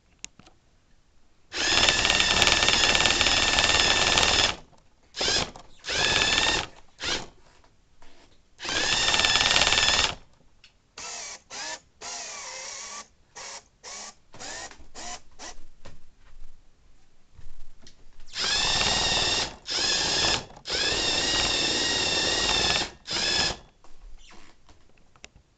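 A Lego Mindstorms EV3 double-arm grabber robot driving around, its motors whirring in sharp, close bursts of a second or several seconds, separated by short quiet pauses.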